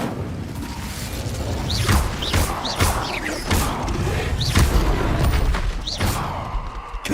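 Incendio fire spells cast during Hogwarts Legacy combat, heard as a string of sharp whooshing bursts and impacts at irregular intervals over a constant busy battle din, with no talking.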